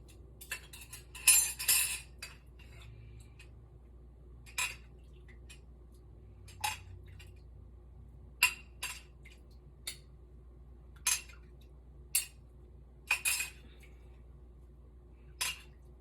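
Utensils tossing cornbread stuffing in a dish, a series of sharp, separate clinks and scrapes of metal against the dish, irregularly spaced over a quiet low background hum, close and moderately loud.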